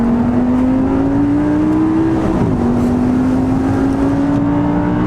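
An Audi R8 V10 engine drones loudly at steady high revs, the pitch climbing slowly with a short dip midway, heard from inside the car with the windows closed.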